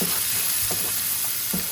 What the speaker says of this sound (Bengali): এখন আমি পুঁটি মাছগুলোকে ভাজি করে রাখছি সেগুলো দিয়ে দিলাম